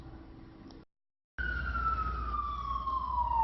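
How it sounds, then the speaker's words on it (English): A siren with a steady, slowly falling wail rises loud and close after a brief dropout of silence, over a low rumble of traffic. "Hear a siren?"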